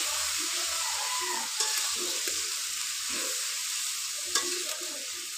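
Sliced onion, garlic and green chilli fry in a pan with a bright, continuous sizzle, broken by a few stirring knocks and clinks close by.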